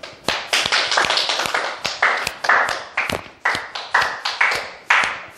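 Students in a high school math classroom clap their hands, a loud run of sharp, fairly quick claps close by, sometimes overlapping, with little else heard.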